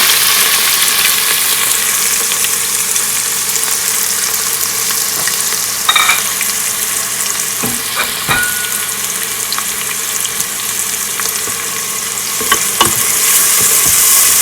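Onions and whole spices such as cinnamon bark fry in hot oil in a pot for mutton biryani, stirred now and then. A loud, steady, close sizzle carries occasional scrapes and knocks of the spoon, with no talking.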